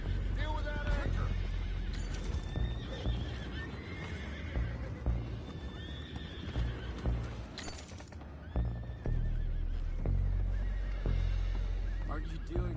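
Horses in Red Dead Redemption 2 whinny and neigh repeatedly near a riverside anchor, with hoof clip-clops and game clatter, while voices talk over the scene.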